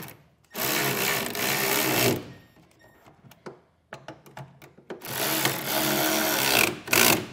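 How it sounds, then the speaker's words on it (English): Power tool driving bolts on a Front Runner Slimline II truck bed platform rack: two loud sustained buzzing runs with rattling taps and clicks in between, close by. "Then we're going to take a 10mm wrench and a 4mm Allen key and snug these up."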